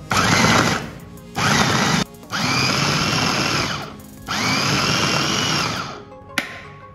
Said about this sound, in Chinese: 用搅拌机 把它搅碎